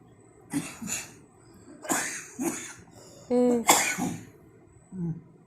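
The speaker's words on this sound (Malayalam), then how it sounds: "നല്ല ചുമയുണ്ടല്ലോ" A person coughs repeatedly in short bursts a few feet away, with some rough, throaty hacks and one strained, voiced cough among them.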